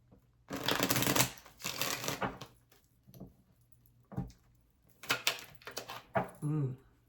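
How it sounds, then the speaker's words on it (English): Tarot cards are shuffled close by in several rapid riffling bursts separated by short pauses, crisp papery flutters and slaps. "Let me shuffle this up."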